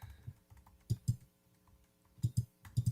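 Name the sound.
typing on a computer keyboard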